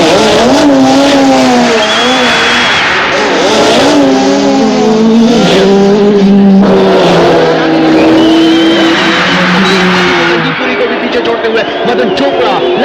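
Race cars accelerate during a car race in the film Baazigar, with engines droning and rising continuously throughout, mixed under a commentator's voice and steady background noise.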